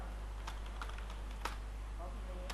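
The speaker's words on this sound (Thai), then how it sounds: "ลองพิมพ์ว่าความลับ" Keys on a computer keyboard tap out a few faint, scattered clicks while entering text into an Excel worksheet, over a steady low room hum.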